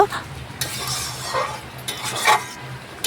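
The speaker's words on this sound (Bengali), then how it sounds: "মাছের ডিম দিয়ে আবারও বেশ কিছুক্ষণ নাড়াচাড়া করে মাছের ডিম লাউয়ের সাথে মিশিয়ে নেব" Fried fish roe being stirred together with bottle gourd in a pan, close scraping and shuffling strokes of a utensil over a soft sizzle, with a few light clinks against the metal.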